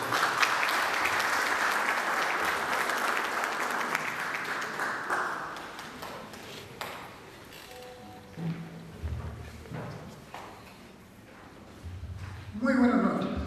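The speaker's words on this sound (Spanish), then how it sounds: "Palmas, por favor." Audience applause at a book presentation in a hall fills the first several seconds, loud and steady, then fades into quieter room sounds and movement, with a voice speaking near the end.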